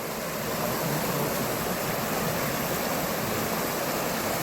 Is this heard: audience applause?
no